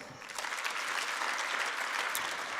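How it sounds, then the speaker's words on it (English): Audience clapping at a university annual research day event for the faculty of management and law, a steady, moderately distant wash of applause that continues throughout the moment with no voices over it. "Please let us clap for them."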